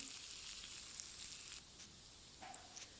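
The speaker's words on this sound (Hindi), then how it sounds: "2 मिनट हमने इसमें प्याज को फ्राई करना है।" Onions fry in a pan with a faint, thin hiss of sizzling oil throughout, quiet and steady with a small dip partway, no talking.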